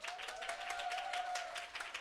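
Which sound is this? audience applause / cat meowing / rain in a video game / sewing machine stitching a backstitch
audience applause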